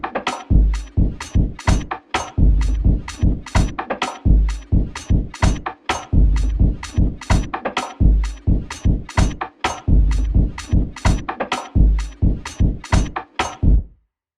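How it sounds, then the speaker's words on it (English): A drum pattern built from video game samples plays as a loud, punchy loop of tightly spaced hits with deep kicks and crisp, noisy percussion, repeating steadily before stopping abruptly. "The drums all together, it sounds like this."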